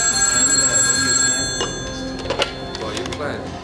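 An old-style telephone bell rings loudly in a drama scene, a sustained metallic trill that cuts off partway, followed by handling clatter as the receiver is picked up.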